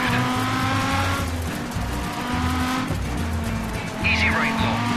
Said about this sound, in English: Really nice sounding exhaust tone